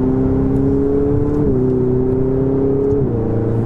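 Ferrari 488 GTB turbocharged engine pulling steadily under load, with a faint turbo whistle above the drone, dropping in pitch twice as it casually upshifts; continuous, loud and close, with no voices.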